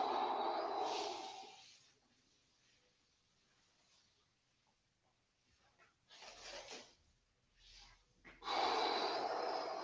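Deep breaths during a guided breathing exercise, with long airy inhales and exhales; a strong breath opens the clip, quieter breathing follows, then several louder breaths come near the end.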